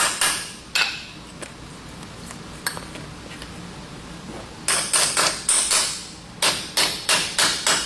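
A copper rivet is hammered into a brake shoe in a rapid series of sharp metallic strikes, some single and some in quick clusters. The blows are close and loud over a quiet workshop background.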